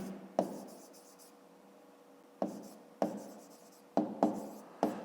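Pen writing in a school notebook: a series of short, crisp scratching strokes with pauses between them, close and alone, no talk.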